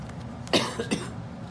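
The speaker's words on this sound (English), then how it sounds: "Sorry, I have a cough." A couple of short, sharp coughs close to the mic, separated by a brief pause, over a quiet room background.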